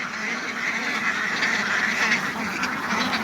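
Khaki Campbell ducks from a flock of about two hundred on a farm, quacking in a busy, overlapping chorus with many calls at once, close and fairly loud, with no talk.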